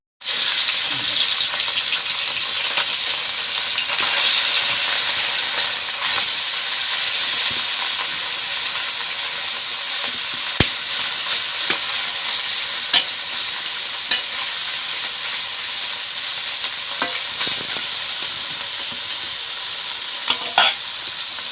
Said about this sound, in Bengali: মাছগুলো ভাজা কি সুন্দর করে দেখো